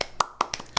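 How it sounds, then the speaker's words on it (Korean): A few sharp hand claps, about four in quick succession, close and dry, given as brief applause to celebrate Tesla joining the S&P 500. "네, 박수."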